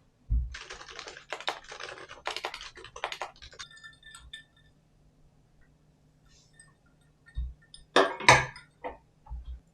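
Typing on a computer keyboard, picked up by an Insta360 Link webcam, clatters in quick close bursts of keystrokes, then falls quiet before a few louder clicks and taps near the end.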